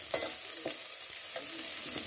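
Chopped onions fry for biryani, giving a low sizzle under a few rhythmic scraping strokes of a spatula, close and fairly quiet, with no talking.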